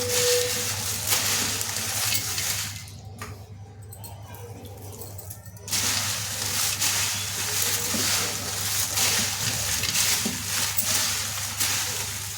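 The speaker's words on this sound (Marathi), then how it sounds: "सर्व मसाला आपण असंच टाकून मिक्स करून घेणार आहोत हलक्या हाताने वर खाली करून त्याला मसाला लावून घ्यायचे" Spiced fried corn chivda being gently tossed and mixed by hand with masala, a steady close rustling and scraping with a low background hum, dipping briefly in the middle before resuming.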